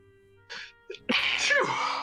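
A single loud sneeze close by, preceded by a couple of sharp intakes of breath.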